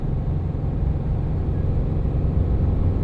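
An old detuned chassis cab truck's engine drones low and steady with the pedal floored, a continuous loud hum close by with no talk over it.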